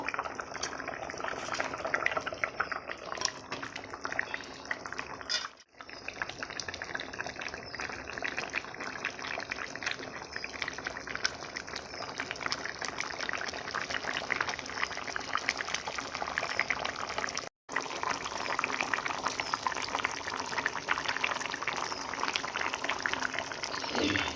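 Fish curry with cut potatoes boils vigorously in plenty of water, a dense, continuous bubbling roar close up that runs nearly unbroken, with two brief drops.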